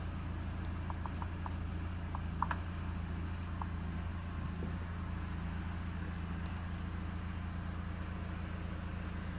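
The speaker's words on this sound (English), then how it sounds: "I'm going to wait with the engine turned on to reach between 40 to 15 Celsius degrees" A BMW 3 Series with a ZF 6HP automatic transmission idles steadily, a continuous low engine hum with faint mechanical ticking throughout, close and unchanging.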